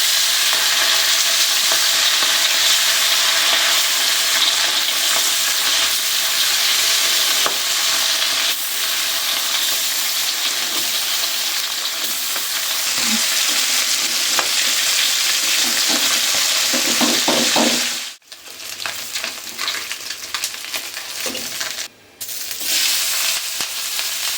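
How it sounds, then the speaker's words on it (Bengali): Hot oil sizzles in a wok on a stove in a Bangladeshi kitchen, a dense steady hiss with occasional stirring scrapes, briefly dropping out and resuming toward the end. "চুলা অন করে নিয়েছি, কড়াই গরম হয়ে গেছে। এখন আমি তেল দিয়ে দিব।"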